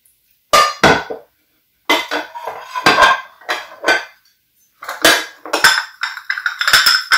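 Vintage china plates and dishes clink and rattle while being unpacked from boxes, with bursts of ringing ceramic contact separated by brief pauses, close and fairly loud.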